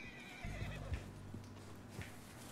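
A horse neighs in the video game Red Dead Redemption 2, a loud drawn-out whinny with a few hoof clops, close and alone without talk.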